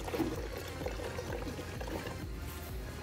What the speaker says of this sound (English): The technician will then add water about 1 pint